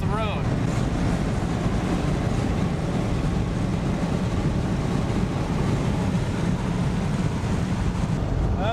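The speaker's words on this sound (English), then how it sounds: "This wind is just fierce" Fierce wind roars steadily around an old Chrysler driving a highway near Tucumcari, New Mexico, a loud unbroken rush buffeting the microphone alongside road rumble.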